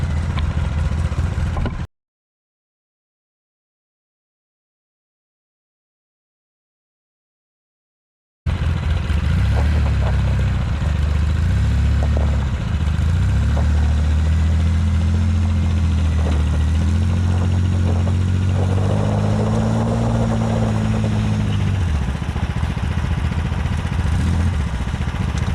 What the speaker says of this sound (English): I'm gonna pull myself out with the side by side